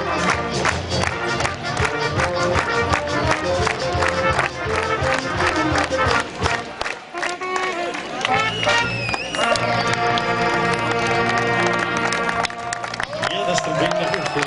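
Audience at the Kohlenmeilerfest in Wülfershausen clapping fast and steadily along with trumpets and brass music, loud and dense, with crowd noise and voices mixed in throughout.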